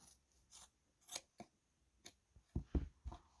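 Scissors snip through yarn ends on a woven scarf, a handful of separate crisp clicks spaced out, then a tight cluster of louder cuts at the end, close and unaccompanied by talk.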